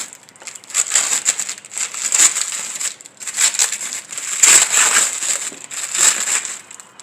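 A part on a 2003-2007 Honda Accord headlight bracket is peeled away, giving loud bursts of crinkling, crackling tearing that come in uneven waves with brief pauses between.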